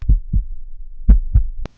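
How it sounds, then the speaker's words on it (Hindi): A heartbeat sound effect in a Hindi audio murder mystery story plays as two deep, close, thumping double beats, each pair a low lub-dub, before cutting off abruptly. "उसका दिल तेजी से धड़कने लगा।"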